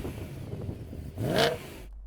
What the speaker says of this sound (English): let's have a listen to the old M3.